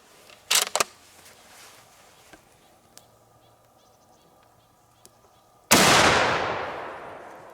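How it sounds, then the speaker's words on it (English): A Madsen rifle with a muzzle brake fires one loud, sharp shot near the end, and the blast rings out and decays. Earlier come a few quieter clicks and handling knocks. "So I just wanted to show you the rifle shooting, and you can see me shooting something for a change."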